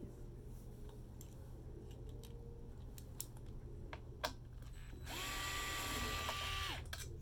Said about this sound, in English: Unscrew, these are long screws.